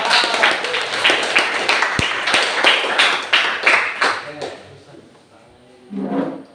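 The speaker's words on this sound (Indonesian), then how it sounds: "biar semangat, tepuk tangan aja untuk kelompok 1" Students in a classroom clap for group 1 for about four seconds, a quick run of individual claps that then fades and stops. A short burst of talk follows.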